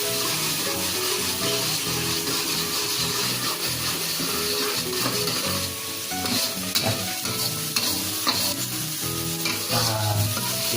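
Spice paste for seblak sautés in a hot pan with a loud, continuous sizzle and frequent stirring and scraping, close up with no talking.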